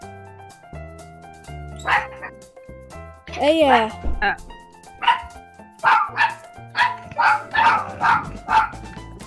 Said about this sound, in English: Hey, there's a dog! There's a dog!